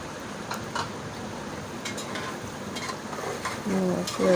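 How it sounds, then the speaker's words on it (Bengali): Beef fries in a pan as it is stirred to brown, a soft steady sizzle with intermittent scrapes and clinks of a utensil against the pan, growing louder near the end. "একটু নাড়াচাড়া করে একটু বাদামি কালার করবো আর কি"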